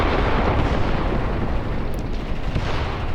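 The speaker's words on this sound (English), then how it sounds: "They are throwing grenades, trying to hit vision slits, anything to disable this thing." Continuous heavy blast noise as grenades burst against a tank in the wartime tactics game Graviteam Tactics: Mius Front, a dense, loud roar of explosions with no separate gaps between them.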